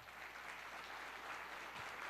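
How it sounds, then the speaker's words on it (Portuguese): A church congregation applauds during a sermon, a continuous wash of clapping heard faint and distant, holding steady for about two seconds. "Dê um aplauso ao Senhor."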